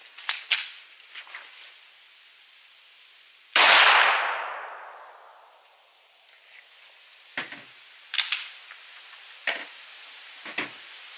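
Several sharp 9mm pistol shots from a Glock 17 Gen 4 ring out at an outdoor range, aimed at a truck door target downrange. One loud close blast with a long fading echo is followed by a string of quicker, thinner reports.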